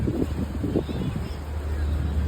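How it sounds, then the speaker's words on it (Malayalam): Strong wind sweeps across an open ground after a large gathering in Bangalore, buffeting the microphone with a continuous low rumble and gusty roar for the whole moment. "എന്താ കാറ്റ് ഭയങ്കര കാറ്റടാ"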